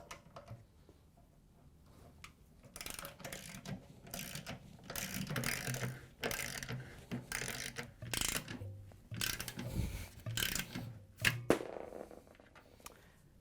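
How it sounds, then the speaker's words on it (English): Ratchet with a 10mm socket loosening the spider arm bolts on a Samsung washer tub, a series of rapid clicking bursts in close succession, near and fairly loud, separated by short pauses. "We're going to use a 10mm socket with a ratchet to take them out."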